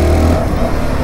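A 2023 SYM NH-T 300 scooter engine pulls steadily at low-to-mid revs, a close, continuous motor drone with a strong low hum and no talking over it.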